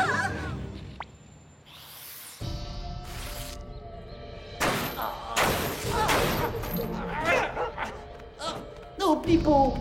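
Cartoon dog barking in a French animated spy series, several yips and barks breaking out amid busy music and effects, with voices talking around them.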